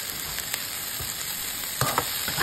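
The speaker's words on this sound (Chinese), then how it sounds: "翻炒几下" Sliced potatoes with green and red peppers stir-fried in a wok, a continuous close sizzle of hot oil with a few soft tosses and spatula scrapes.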